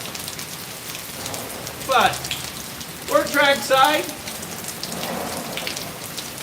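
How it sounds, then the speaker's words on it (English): Heavy rain pours steadily at an outdoor trackside spot, with water running off the level above in a continuous hiss and patter, while someone talks briefly over the downpour. "it's raining pretty hard, so we got quite a bit of water running off the level up above"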